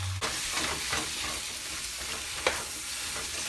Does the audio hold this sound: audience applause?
no